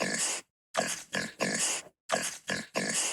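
Pig oinking and grunting in a series of close, loud bursts with brief gaps, several snorts grouped in twos and threes.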